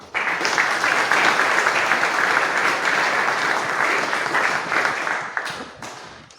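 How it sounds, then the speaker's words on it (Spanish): A crowd breaks into loud, sustained applause, many hands clapping together at a steady level before it thins out near the end. "Un fuerte aplauso"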